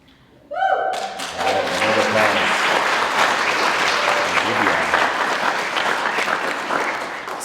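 Applause at an Indigenous student graduation ceremony bursts in sharply after a short pause, then continues as loud dense clapping with a few low thumps mixed in.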